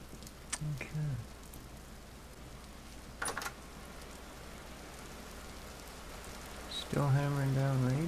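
Steady rain hisses down in the game Vintage Story, an even wash of patter that runs throughout, with a voice briefly breaking in early and again near the end.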